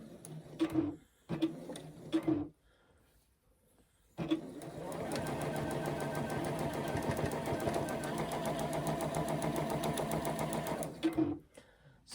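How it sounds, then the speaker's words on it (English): Sewing machine chain stitching a batch of quilt patches, pairs of light and dark pieces fed one after another: a few short bursts, then a long, steady close-up whir of rapid stitching that stops abruptly, with brief starts afterward. "it will just chain stitch the entire batch of these"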